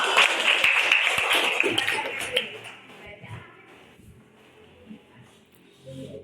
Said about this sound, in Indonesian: Tepuk tangan ya buat Febri.